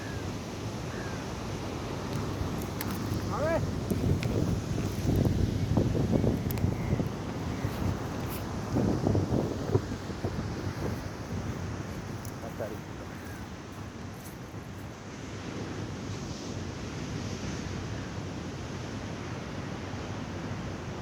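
Strong wind roars steadily over crashing ocean surf on the Kanyakumari district coast, loud and broadband throughout, with gusts rising and easing.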